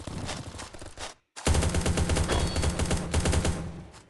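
The Savory AR rifle in the Copsnrobbers video game fires in rapid automatic bursts, loud and close, with a short pause before a longer sustained string of shots, and no voices over it.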